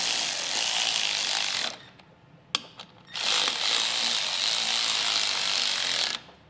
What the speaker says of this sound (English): I'll get these snugged down using a 9/16 socket